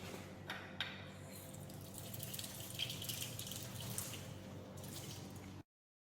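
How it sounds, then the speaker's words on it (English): Water runs steadily to rinse etchant solution off a brass copper-alloy lab sample, a close, soft splashing flow with a few small drips that cuts off abruptly at the end. "Apply a drop and then wash."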